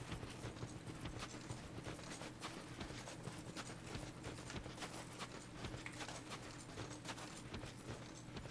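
Horse hooves clip-clop at a steady trot in Dark Souls II, a continuous run of moderately loud hoofbeats over a low game ambience hum, with no talking.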